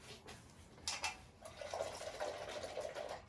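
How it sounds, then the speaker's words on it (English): A paintbrush is swished and rinsed in a cup of water during a landscape painting session, giving soft close splashing and trickling sounds, a brief burst early then steadier swirling, faint and quiet with no talking. "then rinse it out with the water and wipe it again"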